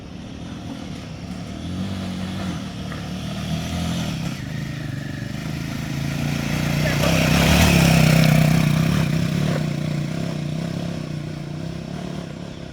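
A Royal Enfield Himalayan 450 motorcycle climbs tricky off-road slopes in Slovenia. A mid-pitched engine drone holds steady, swells to a louder, harder-working peak midway, then eases back.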